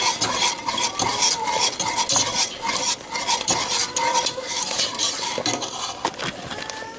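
Chicken alfredo ingredients with garlic powder are stirred around a pan on the stove, a steady sizzle under repeated scraping and clinks of a utensil against the pan, close and fairly loud with no talking.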